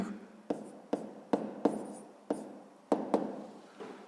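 A pen writes out a sixth-grade math solution on paper, producing close scratchy strokes punctuated by about nine sharp taps at uneven intervals, with no talking.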